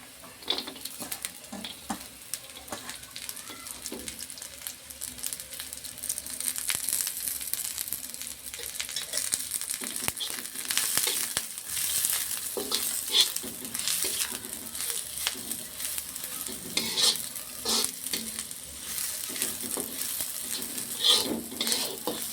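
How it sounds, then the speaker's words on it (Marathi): Ginger and garlic fry in a pan for a patavadi rassa, a steady sizzle that swells after the first few seconds, with repeated scraping and clinking of a spatula against the pan, close and without talk. "तर चला आपण आता दुसरा भाजून घेऊ, अद्रक लसण।"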